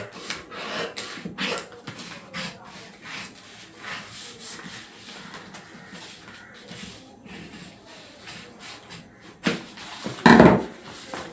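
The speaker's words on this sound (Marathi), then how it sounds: "याचा सुद्धा आपण गला कापून घ्यायचा आहे" Scissors cutting the neckline of a paper blouse pattern: a continuous run of close rasping snips and paper rustles, ending with a brief louder crunch of the paper near the end.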